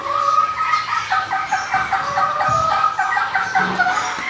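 Pullet hens cluck in a cluster of short, overlapping calls, fairly close, with no talking over them.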